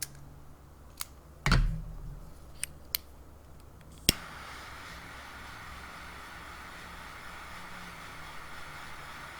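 A Dominican puro GTO Pain Killer Toro box-press cigar is clipped with a few sharp snaps and a soft thump. Then a lighter clicks and a steady jet-flame hiss runs on with no talking.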